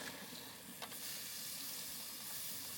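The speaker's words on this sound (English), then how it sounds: "All right, my burger's frying." A burger fries alone in a pan, giving a steady, quiet sizzle and hiss throughout with one brief crackle near the start.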